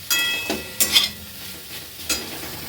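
Capsicum, carrot and onion sizzle gently in a pan while a utensil stirs them, giving a few sharp scraping strokes over a soft frying hiss, close and without talk.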